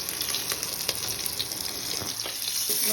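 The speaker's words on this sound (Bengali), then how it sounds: "আমি মাছটাকে সুন্দর করে ভেজে নিচ্ছি" Pieces of catla fish frying in hot oil in a pan, a steady close sizzle with crackling pops and spatter throughout, no talking.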